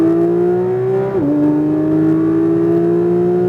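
Porsche 992 GT3 flat-six at full throttle on a race track, a loud steady rising engine note that dips briefly at a gear change, then climbs again, heard close and continuous with no talk.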